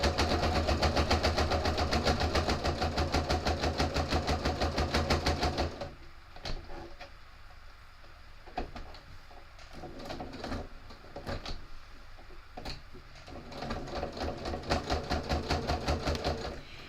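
A sewing machine with a walking foot, size 16 needle and 2.5 mm stitch length, runs fast and steady through thick fabric layers, then slows to short stop-and-start bursts before speeding up again.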